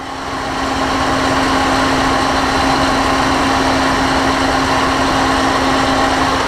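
A Chevy truck engine idles steadily while an electric radiator fan blows hard nearby, a loud constant whirring roar with an even low hum throughout, no voices.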